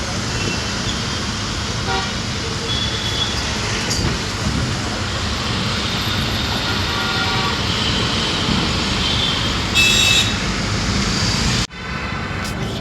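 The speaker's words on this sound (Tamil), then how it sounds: "செம்ம டிராஃபிக்ங்க." Heavy road traffic with taxis in Mumbai rumbles close by, several car horns tooting at intervals over the steady engine noise and road hiss, ending with an abrupt drop.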